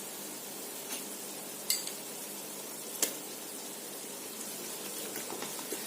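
Garlic paste and onions sautéing in a pan for Ambur biryani give a soft, steady sizzle, with a couple of faint clicks, and no one speaks.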